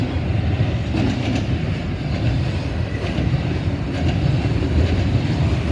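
A freight train rolls past at Deshler in a loud, steady rumble, with rhythmic clickety-clack of wagons and wind buffeting the microphone.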